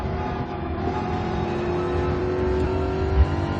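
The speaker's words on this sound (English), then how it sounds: "We have a power advantage over that car as well with the 5-liter V8 we have." A Ford Mustang's 5-liter V8 in Gran Turismo 7 drones steadily at close range during a daily race at Watkins Glen, its engine tone climbing slightly as it holds a constant, loud roar throughout.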